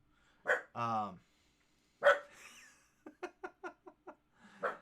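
Close dog barks, a yelp and a whine, then a quick series of short sharp barks, with a burst at the end.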